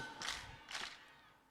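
Two short bursts of audience clapping, brief and fairly faint, a crowd applauding together at a student gathering at the Sisaket city pillar shrine.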